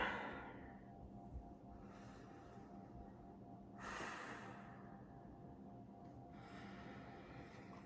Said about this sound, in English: Deep breathing is good for you.